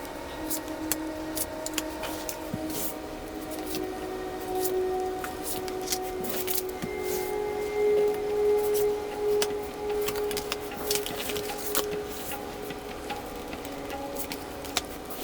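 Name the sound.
tarot cards being drawn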